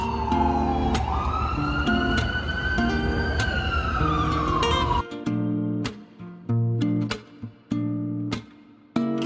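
A wailing siren sweeps up and down over a loud New York City street roar, then gives way to honking car horns and traffic noise.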